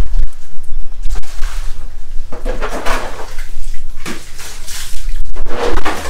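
Water sloshes and splashes in a flooded basin in loud, close, irregular bursts, some of them longer washes, with quieter gaps between them.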